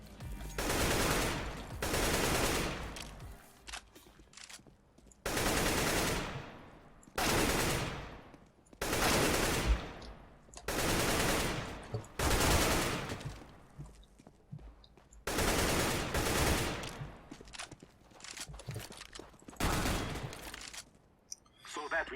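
In Counter-Strike: Global Offensive, short bursts of automatic rifle fire repeat roughly every two seconds, about eight sharp clusters of shots in all, with a person talking quietly between some of them.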